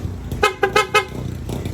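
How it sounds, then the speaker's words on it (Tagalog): Four quick horn toots in a rapid burst from a Honda Click V3 scooter, loud and close, over a low idling engine rumble. "then rapid PIA horn, rapid"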